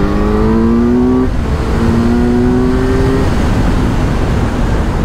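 Kawasaki Z900 motorcycle engine revving loudly and steadily nearby, its whining pitch climbing in two rises over a constant roaring drone.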